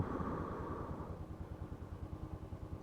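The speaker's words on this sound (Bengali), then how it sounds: "এতদিন পর এই অবস্থা বাইক চালাচ্ছি।" A motorbike being ridden after a long time off, its engine a steady low throbbing rumble with a rough clattering pulse, close and continuous, with no voices.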